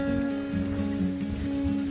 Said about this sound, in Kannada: ಸೊ ಇಲ್ಲಿ ತುಂಬಾನೇ ಮಳೆ ಹತ್ಕೊಂಡು ಬಿಟ್ಟದ